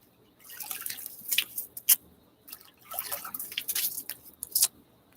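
During a wet shave, a razor is rinsed under running water, making a few bursts of splashing and dripping close by. These come in two short clusters with quiet gaps between them, and there is no talk.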